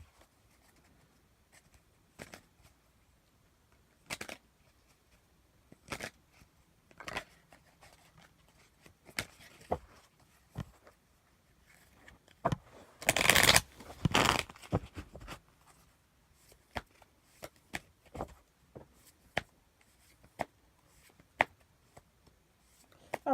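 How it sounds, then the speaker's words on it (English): Tarot cards are shuffled in sparse, quiet bursts of flicks and taps, with a louder riffle midway, close up and otherwise near-silent. "I'm just kind of shuffling the cards right now."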